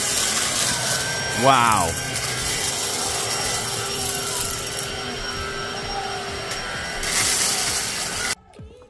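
A Black & Decker PowerSeries+ 16V cordless stick vacuum runs steadily with a broadband whoosh, its motor revving up twice as it sucks up coffee beans and cereal from the floor, with a short exclamation heard over it before it cuts off abruptly.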